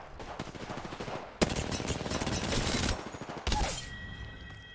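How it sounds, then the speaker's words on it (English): Bursts of automatic gunfire from Apex Legends as a player turns his weapon on his own teammates, with loud sustained volleys in two main stretches separated by short gaps. "He's shooting his teammates."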